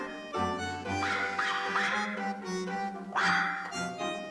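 A dog barking and yipping in the opening of the Korean film Barking Dogs Never Bite, a few sharp barks set against a sustained musical score that carries through the whole passage.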